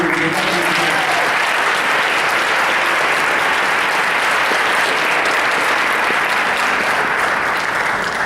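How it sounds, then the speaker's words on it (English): Sustained audience applause fills a board of education meeting hall, dense, steady clapping from many people for the full stretch with no break and only a faint murmur of voices beneath. "round of applause for these two"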